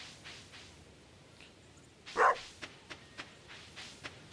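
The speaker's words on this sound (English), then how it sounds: "You can tell because she's barking like crazy." A dog in the Stardew Valley farming game, modded with SVE and RSV, gives one short bark followed by a few soft yips, faint and set against a quiet background.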